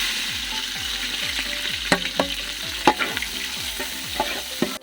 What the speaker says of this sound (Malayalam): നമുക്ക് അതിൽ കുറച്ച് സവാളാണ് തട്ടാട്ടാ